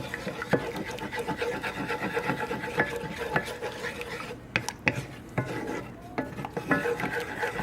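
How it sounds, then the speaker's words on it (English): A utensil scrapes and rubs through flour and oil for white gravy in a pan, making repeated gritty strokes and occasional clicks against the pan, close and steady, with no talking. "It'll lump up. You just keep stirring it."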